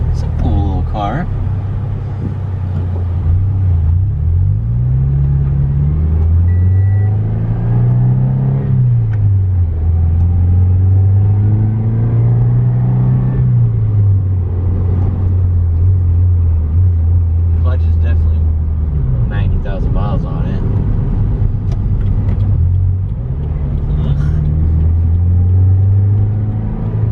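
A slightly rusty little Subaru car's engine runs steadily and loud up close, its pitch rising and falling smoothly as it is revved several times over a constant idle rumble.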